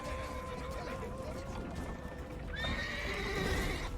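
A horse in The Witcher 3 whinnies loudly over a steady clatter of galloping hooves, with a second high neigh rising midway through, all close and busy.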